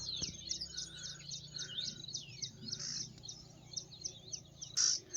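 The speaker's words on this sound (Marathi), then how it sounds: "बहुतेक पाखराचाही आवाज येत असेल तुम्हाला" Small birds chirp and tweet repeatedly in quick bursts at moderate distance around a tree beside a millet field, with a soft rural background and one louder call near the end.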